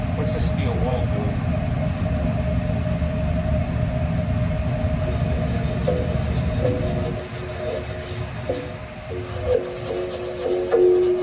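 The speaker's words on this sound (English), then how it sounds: "I think I'm gonna have to scrub on it for quite a while." Steel wool scrubs a dirty flat top grill in a food truck with a steady, rasping back-and-forth rubbing that runs the whole time. Toward the end the strokes turn more uneven and there are a few clanks.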